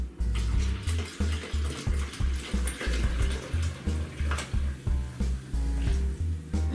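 Seltzer water pours into a homemade cranberry soda drink in a close, continuous stream that pulses in regular glugs from the bottle, with bubbly fizz on top and no talking.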